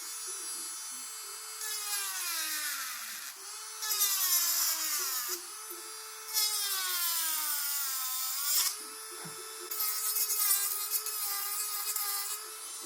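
A 30,000 RPM rotary drill whines close up, its pitch sagging and recovering repeatedly as it bites through acrylic, with bursts of harsher grinding.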